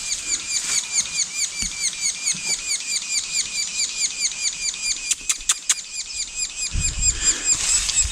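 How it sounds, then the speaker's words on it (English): Woodpecker nestlings in a tree hole chatter in a rapid, continuous high-pitched chorus of begging calls, steady and close, with a few clicks and a soft thump near the end. "got some babies in the tree. Hear them all? In that little woodpecker hole."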